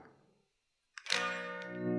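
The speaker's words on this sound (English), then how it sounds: "Next up, chorus delay and reverb." A short guitar phrase through a Fender Mustang Micro headphone amp set to chorus, delay and reverb starts after a brief gap and rings out with a shimmering, sustained tail.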